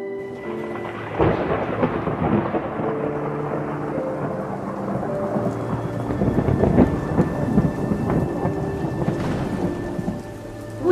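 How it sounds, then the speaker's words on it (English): Steady heavy rain pours down while deep thunder rumbles and rolls repeatedly, building louder in the middle, with no voices. "I have to go home, it's raining"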